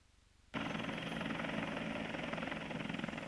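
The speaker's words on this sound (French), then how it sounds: "À bord de cet hélicoptère" A helicopter carrying Robert Mugabe's body to his home village of Kutama cuts in abruptly and then holds a loud, steady, close rotor roar.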